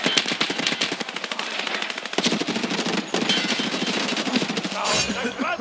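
Sustained automatic gunfire in the shooter Escape from Tarkov: Arena, loud rapid rattling bursts with short breaks, ending in a brief crashing impact.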